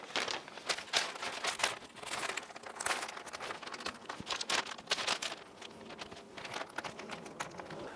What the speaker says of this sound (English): Sounds like paper, but it's actually the fabric.